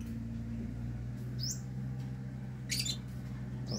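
African lovebirds give a few short, high chirps: two brief sweeping calls and a quick cluster later on, faint against a steady low hum.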